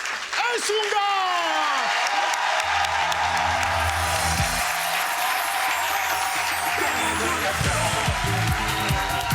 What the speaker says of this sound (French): Un tonnerre d'applaudissements pour Ignace